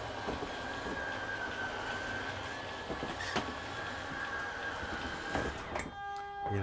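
An RV slide-out motor retracts the slide on a Gulfstream Conquest 6314 motorhome, a steady mechanical drone with a whine running throughout, shifting and stopping near the end.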